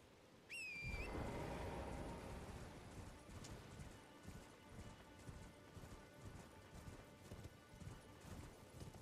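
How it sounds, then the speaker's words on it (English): Horse hooves clip-clop steadily at a gallop in the Elden Ring video game, rising after a brief whinny-like call at the start and running loud and continuous to the end. "I'll use my horse to get over there."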